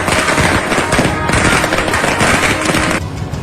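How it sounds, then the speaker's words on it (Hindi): Fireworks at an Indian political celebration by Shiv Sena supporters, a dense rapid crackle of bursts like a long string of firecrackers, loud and continuous throughout with no talk over it. "इसके बाद जमकर आतिशबाजी भी हुई।"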